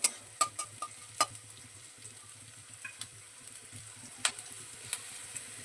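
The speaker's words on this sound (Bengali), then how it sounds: "প্রথমে ক্যাপসিকামটা ভেজে নেব" Soft, quiet frying of capsicum in a pan with a low sizzle, broken by several sharp clicks and taps of a utensil at irregular intervals.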